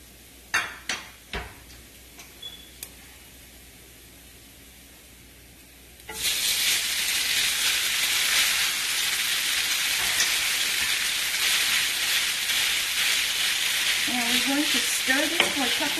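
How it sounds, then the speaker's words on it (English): Noodles stir-fried in oil with dried shrimp, shallots and garlic for ginger and scallion lobster noodles. A few utensil clinks over quiet hiss give way to a sudden loud, steady sizzle that continues, with faint scraping near the end. "Stir this for a couple of minutes."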